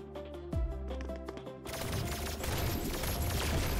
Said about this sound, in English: You see, she fires really quick.